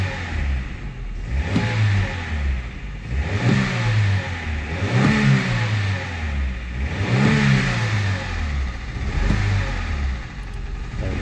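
Repeated throttle blips on a Vauxhall Astra engine with an ECU fault and a dropping-out sensor, about five rising-and-falling rev cycles over a steady idle, loud and close, with no talk.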